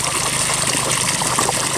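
Water running from a hose into an outdoor tilapia pit, a steady, loud, close rush of splashing and gushing that continues without a break and carries no voices.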